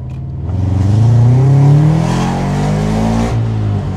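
A tuned car accelerating hard, its engine revving loud and close with a rising, rasping drone that holds steady and then drops slightly near the end.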